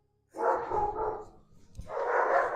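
A dog barks loudly and close in two sustained bursts separated by a short pause, with no talking.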